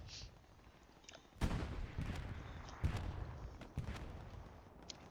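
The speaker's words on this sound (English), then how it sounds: "And the artillery strikes are coming in, trying to push Taco out of their strong point." Artillery strikes in Hell Let Loose on the Driel map near the brick factory: several muffled booms land at a distance over a steady rumble of battlefield noise, fairly faint.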